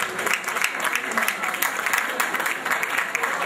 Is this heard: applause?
yes